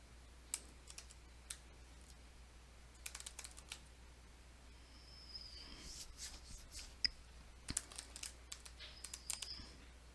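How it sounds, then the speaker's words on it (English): A short command typed on a computer keyboard: sparse, soft key clicks in a few quick clusters against a faint background hum. "I'm just going to type who am I and go."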